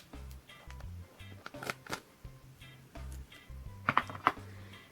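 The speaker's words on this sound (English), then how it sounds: "you just want to take your scissors and just make small slits like so" Scissors snip small slits into a rainbow paper squishy, a series of quiet, crisp cutting clicks in uneven bursts, with a few sharper snips near the end.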